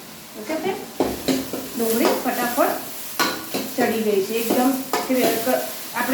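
Cumin and asafoetida sizzle in hot oil in a pan while a drumstick vegetable curry is being made, a steady close frying hiss under a person talking throughout.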